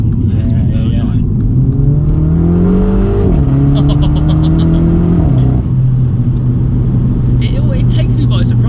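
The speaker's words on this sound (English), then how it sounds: "I don't know if you can catch all those burbles that we're getting from behind." A 300bhp Mini JCW accelerating hard, its engine note climbing steadily and droning loudly inside the cabin, with faint exhaust burbles crackling from behind.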